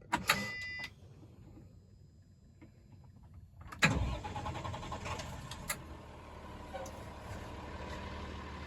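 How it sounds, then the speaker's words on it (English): A Class B truck engine is started during a CDL pretrip inspection: a brief click and whir, a pause, then the starter cranks and the diesel catches, settling into a steady idle. "I will now start the truck."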